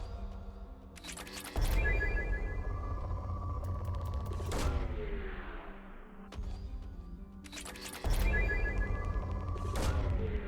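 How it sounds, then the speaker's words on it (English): Probes launched at a planet in Mass Effect Legendary Edition make two loud launch blasts with ringing, whooshing tails, each followed by a fading sweep and a sustained hum. "Bear with while I fire a bunch of little mini rockets at this planet"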